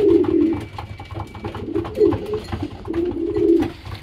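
Several pigeons coo close by in low, throaty repeated calls that overlap in uneven bursts, filling the enclosed space.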